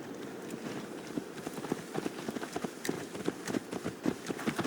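Hooves of a horse clip-clop in Assassin's Creed Valhalla, a steady run of clear hoof strikes at a trotting pace, fairly close and carrying on unbroken across the whole stretch.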